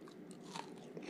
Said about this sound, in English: I don't know if y'all can hear me crunching, but it's crunchy good.